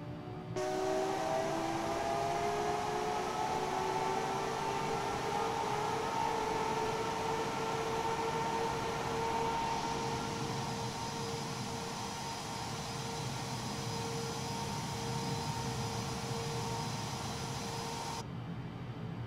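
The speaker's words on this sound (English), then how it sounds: "Man, I love the way these engines sound." Both engines of the Darkstar aircraft running, a continuous whining roar with rising tonal hums that settle into a steady drone, loud and alone for the whole stretch.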